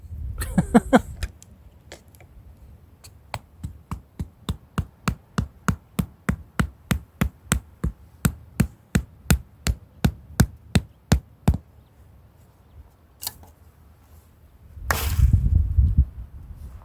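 Close, sharp wooden knocks as the hammer end of a SOG field knife strikes wood in a steady, even rhythm, about two dozen in a row, followed by a few stray thuds and a rustling burst.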